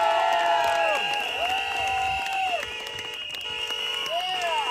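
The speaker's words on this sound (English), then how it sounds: "Let's give them all a great round of applause." Audience cheering and clapping at a rally event, a steady crowd roar with whoops and shouts throughout, continuous and fairly loud.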